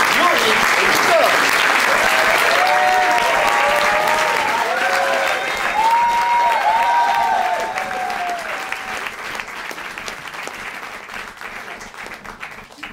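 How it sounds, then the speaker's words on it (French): Audience at an improv comedy show applauding steadily, loud and continuous at first, then tapering off, with some cheering and voices mixed in. "Je te demande d'applaudir calmement mais bien mes comparses de ce soir, Julien, Maurice et Victor."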